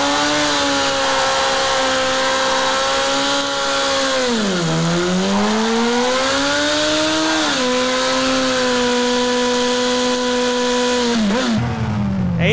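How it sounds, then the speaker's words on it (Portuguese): A motorcycle engine from a GTA San Andreas sound mod revs hard and accelerates, its loud whining tone dipping and climbing through gear-like pitch swings before cutting off abruptly at the end. "Esse áudio da moto tá perfeito, mano, essa aceleração"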